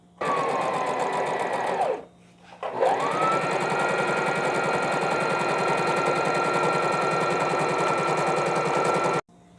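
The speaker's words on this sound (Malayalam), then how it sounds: "ചുരുക്കിടാൻ വേണ്ടിയിട്ട് ലോങ് സ്റ്റിച്ചിൽ സ്റ്റിച്ച് ചെയ്യാം." A sewing machine runs long running stitches on a baby frock with smocked puff sleeves, a loud, close, rapid rhythmic chatter that pauses briefly, then restarts and runs steadily until it stops abruptly.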